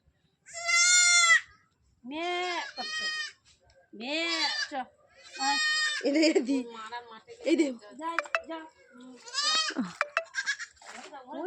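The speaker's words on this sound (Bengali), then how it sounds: "দেখেছো কোন পুচকু ছাগল একটা ধরলাম বাচ্চা" A young goat bleats repeatedly up close, high and quavering cries coming in uneven bursts, with some voices mixing in during the later calls.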